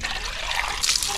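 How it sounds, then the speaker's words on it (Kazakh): Water pours steadily into a cup close by, a continuous trickling splash with a brighter gush near the end, no voices over it. "Кел, көбірек құйайын, кел."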